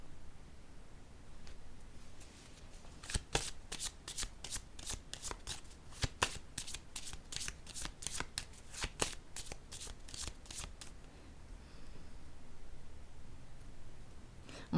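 Tarot cards are riffled and shuffled in a rapid run of crisp snaps and flutters, close and clear, then settle into quiet handling.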